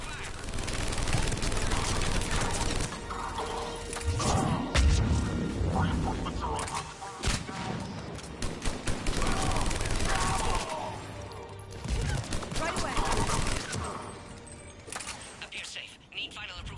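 Gunfire in Mass Effect 3 crackles in bursts and volleys amid crashes and mechanical clatter, loud and dense, with voices talking over the shooting.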